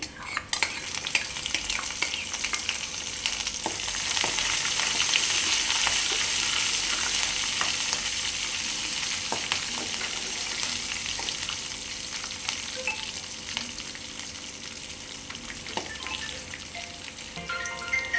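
Ingredients for semiya upma frying in a pan produce a steady, close hissing sizzle over a long stretch, dotted with occasional light scrapes of stirring, no voices.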